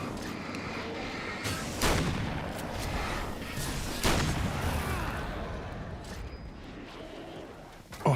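Cannon fire from an enemy lobbing explosive grenade-like shells in the video game Alan Wake's American Nightmare: several heavy booms spaced a couple of seconds apart over a dense, rumbling game soundscape.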